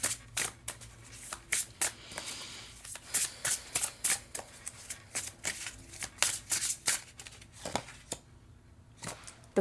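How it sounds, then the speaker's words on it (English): Deck of tarot cards being shuffled close up, with repeated quick riffling and slapping bursts in an irregular rhythm, with no talking. "Let's get some tarot cards for you."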